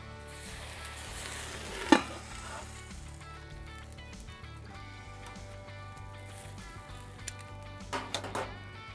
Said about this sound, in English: So you can see it's just barely sizzling away